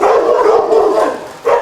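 Dogs barking together in an outdoor kennel run at an animal rescue in the rain, a dense overlapping chorus of energetic barks close by, with a fresh burst near the end.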